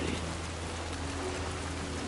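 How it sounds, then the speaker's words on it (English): Timefall rain in the video game Death Stranding 2 makes a steady, even hiss of falling rain over a low, constant hum, with no distinct drops or thunder standing out. "Good lord, this Timefall is dangerous. It was like the rain today."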